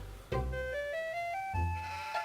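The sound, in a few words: sheep bleating in video game Harvester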